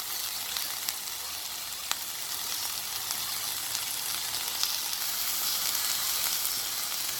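Vegetables and spices stir-frying for chicken and mushroom fried rice, a dense continuous sizzle close up with a few sharp ticks and pops, steady and fairly loud with no voices.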